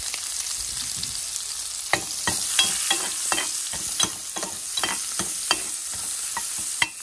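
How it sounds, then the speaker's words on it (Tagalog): Garlic, onion and ginger sauté in hot oil for a Filipino laing dish, a steady close sizzle broken by a dozen sharp scraping stirs of a spatula against the pan. "igisa na natin ang bawang, sibuyas, at ginger"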